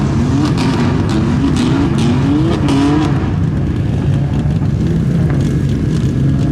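Race cars circling the track at Bremerton Raceways during a track day, engines droning loud and steady with rising and falling pitch sweeps as cars pass, heard from inside or near a car, with no talking.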